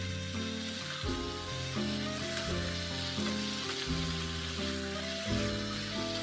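Chicken cooking in a pan for chilli chicken sizzles steadily up close, the frying partly masked by a louder melodic music track playing over it, with no speech.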